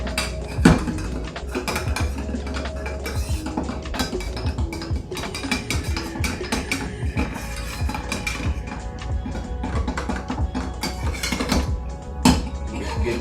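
A Manhattan cocktail is stirred in a mixing glass, with continuous clinking and rattling of ice and metal spoon against glass, plus a few sharper knocks, steady and close throughout.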